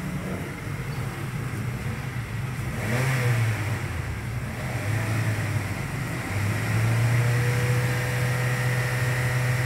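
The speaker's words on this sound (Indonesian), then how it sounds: "Coba aja diinjek gas-gasnya." A 2016 Honda HR-V with a 1.5L engine and an HHO fuel-saver add-on revs as the accelerator is pressed, a steady close engine drone that swells twice with the throttle.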